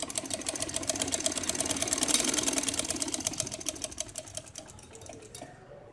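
A sewing machine stitches lace onto a dress neck design in a fast, even, rhythmic clatter that runs for several seconds, swells in the middle and then stops.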